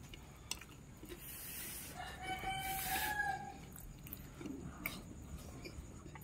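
A chicken clucks and crows faintly amid outdoor background noise, with a rising call in the middle of the clip.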